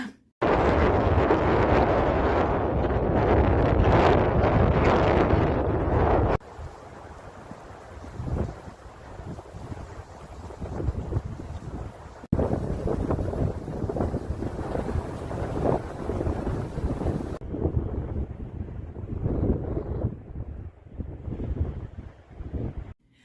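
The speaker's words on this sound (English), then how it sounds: "The wind was so bad and it was cold." Strong, cold wind at sunset in a Colorado mountain town roars and buffets against the microphone in loud, gusting bursts, with rumbling low noise throughout and no voices.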